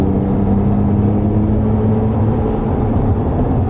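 A deep, steady engine drone and exhaust rumble heard from inside a 2020 Ford F-150 pickup with a 2.7 EcoBoost and MBRP aftermarket exhaust, windows closed, constant and fairly loud with no voices.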